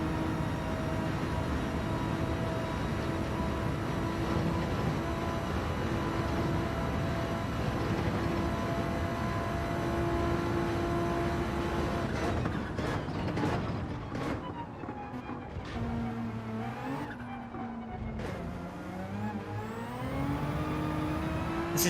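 A race car lapping on hard tyres in the Gran Turismo 7 video game, a sustained engine whine holding steady, then shifting pitch with gear changes, braking and re-acceleration through corners.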